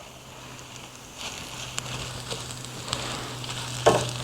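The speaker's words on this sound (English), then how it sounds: "You can dump in your spinach." Spinach dropped onto garlic in a hot pan gives a steady, soft sizzle with a few light clicks and one sharper knock near the end, close by and fairly quiet, with no talking.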